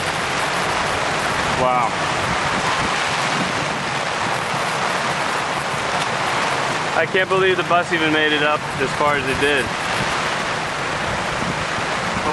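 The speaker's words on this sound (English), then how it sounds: "it hasn't stopped raining for the last 2 hours" Steady heavy rain in a jungle hisses across the whole clip, a dense broadband wash, with a person speaking briefly over it partway through.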